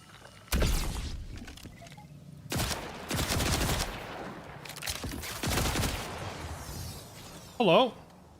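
Electric weapon fire in Borderlands 4 cracks out in several loud bursts separated by short pauses, with a brief whine near the end and a voice speaking around them.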